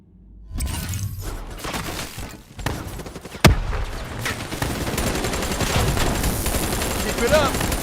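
Gunfire in Call of Duty Black Ops 3, a loud dense barrage of rapid shots, bursts and shattering impacts with a sharp blast near the middle, sustained throughout and mixed with game sounds and voices.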